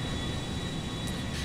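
A Boeing 757 jet airliner in GTA 5 gives a steady low engine roar with a thin high whine, heard from the cockpit at a constant level for a brief moment.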